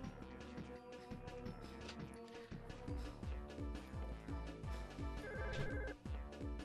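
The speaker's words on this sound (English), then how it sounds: "Thanks for the phone call." Telephone ringing in the Clock Tower II video game, a repeating ring that stays quiet under busy game music.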